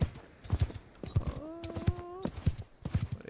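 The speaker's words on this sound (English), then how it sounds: "one lone horse archer making his way over here" Galloping horse hoofbeats from a lone horse archer in Mount & Blade II: Bannerlord, a steady rhythmic beat close by, with a brief sustained tonal horn-like note partway through.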